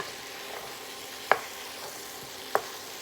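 Sausages coated in curry powder frying in a pan give a steady soft sizzle, broken twice by sharp scraping clicks from a utensil stirring them, close and alone.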